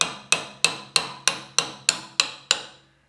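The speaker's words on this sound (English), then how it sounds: "I gotta hammer it just to even get it started." A hammer drives a guard onto a knife tang with nine evenly spaced metallic strikes, each a sharp ringing clang that decays quickly, close and clear with no talking.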